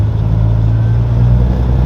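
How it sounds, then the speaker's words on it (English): Grain trucks move about a grain elevator site, a loud, steady low engine drone close by with no voices over it. "Great Lakes grain trucks coming in,"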